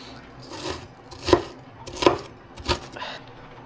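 A knife chopping an onion on a cutting board in a home kitchen, with three or four distinct sharp chops spaced under a second apart, close and fairly quiet.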